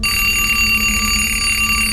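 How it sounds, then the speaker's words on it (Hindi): An alarm clock rings in the morning with a steady, loud electronic tone that sustains unbroken for the full two seconds, with no voices present. "अगली सुबह करीब 8 बजे निकिता का अलार्म बजा"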